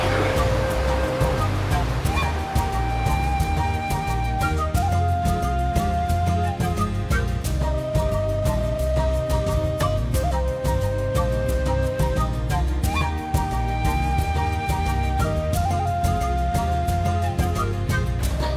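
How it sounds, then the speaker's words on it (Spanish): A small waterfall cascades in a river gorge on a hiking trail near Zaragoza, its steady rushing water continuous and close, with music playing over it. "hay un sitio que es un salto de agua y es una cascadita"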